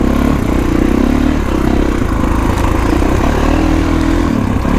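A 2021 Kawasaki KX450X dirt bike on a trail gives a steady, close mid-pitched engine drone with a constant low rumble and light mechanical clatter throughout, and no talking.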